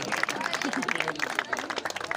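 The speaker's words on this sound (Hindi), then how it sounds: "जोरदार तालियां बजा दें भाई" Applause for the runner-up team captain at a prize ceremony, scattered clapping from a crowd blending with a loud announcer's voice talking over it throughout.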